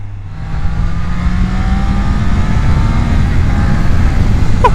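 A 2024 Triumph Daytona 660 three-cylinder motorcycle accelerating on the road, its engine note rising steadily in pitch under loud wind rush, close and continuous.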